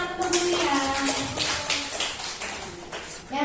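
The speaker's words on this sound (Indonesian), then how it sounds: "Oke, tepuk tangan untuk Bu Lia." An indoor audience at a teachers' school presentation claps for a speaker, quick scattered hand claps layered with overlapping voices in the room.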